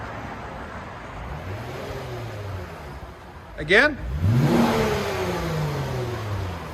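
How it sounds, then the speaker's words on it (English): A stock 2018 Lexus GS 350 F Sport with a 3.5L V6 and dual exhaust idles with a steady rumble, then revs up and falls back in two pulls, close by, as someone speaks briefly. "this is a GS350 Lexus F Sport. This is what it sounds like before"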